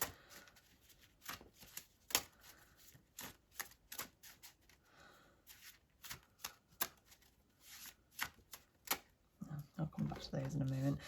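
Tarot cards are shuffled by hand in a quiet room, giving a rapid, uneven run of dry taps and riffling clicks, with a faint murmur of voice near the end.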